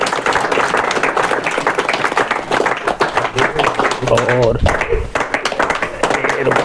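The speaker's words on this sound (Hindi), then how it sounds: "जोरदार तालियां भाई, ऐसे शुभ अवसर पे तालियां बजानी चाहिए।" Audience members clap at a ceremony in Jhunjhunu district, Rajasthan, where a guru is garlanded. The clapping is sustained and fairly loud, with someone speaking over it throughout.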